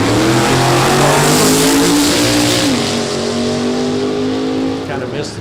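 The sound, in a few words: Corvette drag racing car accelerating down the strip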